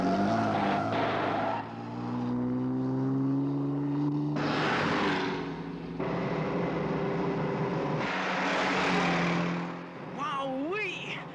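Supercharged car engine roars in a Thunderbirds puppet show scene, loud rising and falling revs with shifting pitch sweeps, briefly broken by a short burst and ending in a warbling whine.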